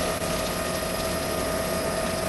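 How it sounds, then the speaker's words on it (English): Water streams steadily from a folded 60-foot anhydrous ammonia bar hitched to a John Deere 2510H, a constant close rushing gush with no pauses and no voices. "The water coming out of things from it being folded up."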